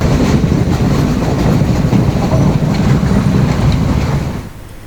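A passenger train runs along a coastal railway track in Sri Lanka, giving a loud, steady rumble of wheels and carriages close by that holds for several seconds before fading quickly at the end.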